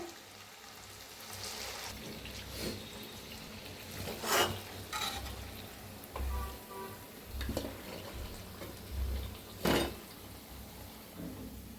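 Marathi chakli snacks frying in hot oil: a constant soft sizzle with repeated metallic clinks and scraping of a utensil against the pan, close and moderately loud.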